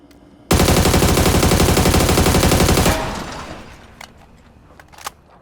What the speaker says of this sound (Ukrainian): Але ще десь тут ближче стріляв хтось.